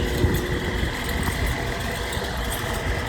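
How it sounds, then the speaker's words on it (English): Carrier HVAC unit with a failing compressor and grinding quarter-horsepower motor, a steady loud mechanical drone with a rough, churning texture throughout, no speech. "We had a compressor just chunk out"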